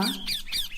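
A parrot squawks twice in quick succession, harsh and shrill, loud and close with nothing else around it.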